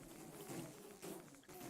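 A radioactive bee in Minecraft buzzes softly and continuously, a faint droning hum that wavers in loudness with a couple of brief dips.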